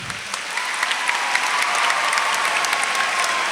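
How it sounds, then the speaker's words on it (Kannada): Audience applause for children at the Kateelu Nudihabba literary festival, a dense, steady wash of many hands clapping throughout, fairly loud and unbroken, with faint crowd murmur beneath. "ಫಸ್ಟು ಎಲ್ಲ ಮಕ್ಕಳಿಗೆ ಒಂದು ದೊಡ್ಡ ಚಪ್ಪಾಳೆ ಅಪ್ಪ"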